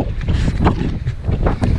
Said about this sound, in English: This is this wind is crazy